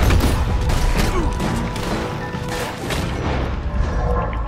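Gunfire in the Western game Red Dead Redemption 2, a dense, loud barrage of booming shots and crashing impacts filling the whole stretch with little letup.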